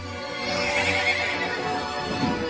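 Przewalski's horses neighing in a steady, drawn-out whinny chorus, with faint hoof clip-clop beneath, continuous and moderately loud with no talk.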